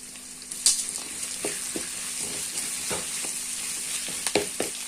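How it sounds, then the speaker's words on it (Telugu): Dried red chilies, curry leaves, urad dal and chana dal frying in a pan for lemon rice, a soft steady sizzle broken by sharp pops and crackles, close and with no talk. "బాగా వేయించుకోవాలా"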